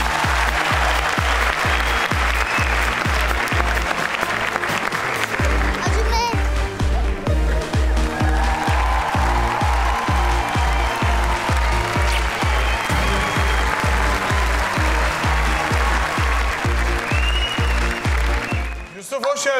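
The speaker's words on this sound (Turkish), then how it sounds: "Seni alkışlarla uğurluyoruz." Studio audience at a Turkish televised talent show applauding a departing contestant, with a loud rhythmic beat of unison clapping running through most of the stretch and voices over it.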